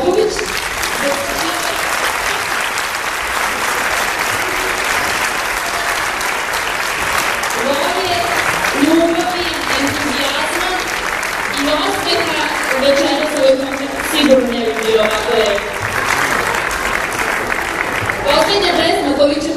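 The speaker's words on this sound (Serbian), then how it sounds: "Ja vas molim za jedan aplauz" Audience applause at a children's music kindergarten concert in Zrenjanin, steady dense clapping from a crowd filling the hall throughout, with some voices mixed in.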